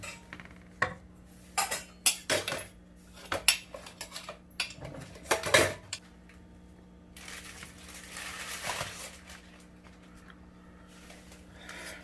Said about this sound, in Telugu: దీంట్లోకి అన్నం కలుపుతున్నానండి